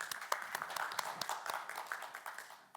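Scattered audience applause at a panel discussion event, a few individual claps standing out over a steady patter of hands that fades slightly toward the end.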